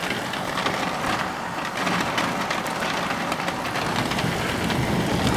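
Steady heavy rain pours on surfaces throughout a moderate-to-strong thunderstorm with an arcus cloud in Amboise, with low continuous thunder rumbling underneath the hiss; no voices.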